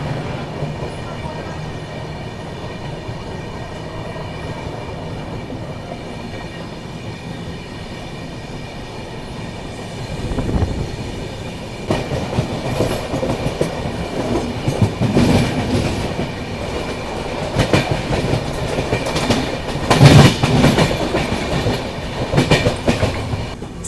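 A Humsafar Express train rolling on the rails at Akola Junction, starting as a low rumble, then growing into loud clickety-clack of wheels and rattling coaches with occasional squeals.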